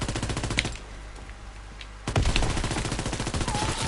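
Rapid automatic gunfire in the World War II shooter Call of Duty WW2, loud bursts of close-range shots with a brief lull before firing resumes heavily.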